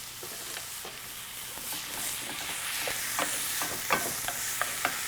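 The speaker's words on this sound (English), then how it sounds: "frying off our ground beef. Just browning it." Ground beef sizzles and hisses in a hot pan, with intermittent scraping and stirring clicks from a utensil, close up and without talking.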